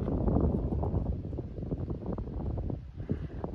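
Strong wind buffeting a microphone at a construction site for a shop and ADU build, producing a continuous heavy, rumbling roar that swells and dips with gusts, with no voices.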